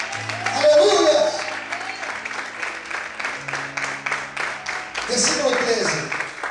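A church congregation claps throughout a worship service, the applause steady and moderately loud, with a low sustained musical tone and some voices underneath.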